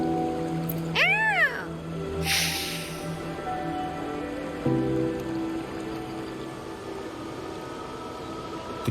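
A cat in the Wuthering Waves video game gives one clear, rising-and-falling meow near the start, followed by a brief bright burst over steady game music and ambient noise.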